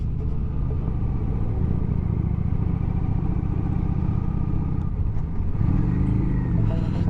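A Kawasaki 900 Classic motorcycle rumbles steadily and loud while riding twisty roads, its engine drone shifting slightly near the end with wind noise underneath.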